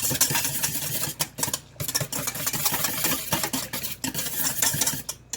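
Homemade buttermilk being stirred briskly in a bowl, a steady scraping, clinking rhythm with brief pauses, close and fairly loud with no talking.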